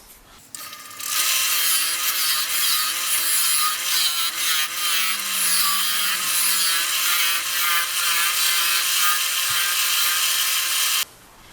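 A wood lathe turns a workpiece as a tool works down a tenon on the base of an apple-shaped box, giving a steady, loud rubbing and scraping hum that runs unbroken for several seconds before stopping abruptly.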